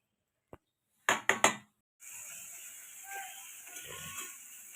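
A wok set down on a stovetop, with several sharp metallic clanks in quick succession after a single light tap, then steady hissing and faint kitchen clatter. The kitchen is where moong dal is being cooked and koftas are about to be fried.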